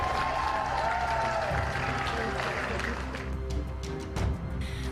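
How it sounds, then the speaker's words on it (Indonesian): Members of a parliamentary plenary session break into lively applause after a bill passes, the clapping dense and continuous with crowd murmur and some voices mixed in. "disambut riuh tepuk tangan peserta rapat paripurna"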